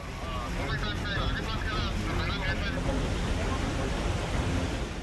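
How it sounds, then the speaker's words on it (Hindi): Heavy floodwater rushes along a road in Vikasnagar, Uttarakhand, during torrential rain, a dense, continuous roar of water and wind that stays loud and steady throughout. "मौसम ने ऐसी करवट ली कि रास्ते पर सैलाब मुसीबत बनकर बहने लगा।"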